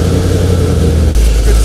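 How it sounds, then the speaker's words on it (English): A car engine with the exhaust diverters closed runs on normal exhaust, giving a loud, steady low rumble that shifts slightly near the end. "first we're going to start it up just with the diverters closed and just normal exhaust"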